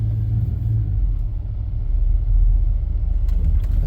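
Low, rough engine rumble from a GMT 400 truck with throttle-body injection and a failing fuel pump, idling unevenly in gear as if close to stalling, steady and close with no talk.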